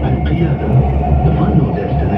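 A metro train runs near Dubai airport's Terminal 3, heard from inside the carriage as a steady, loud low rumble and hum with faint rattles over a couple of seconds.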